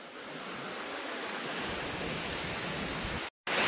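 Rushing water at Dokrichanchara Waterfall in Kalahandi District, a steady loud broadband roar that cuts out for a split second near the end.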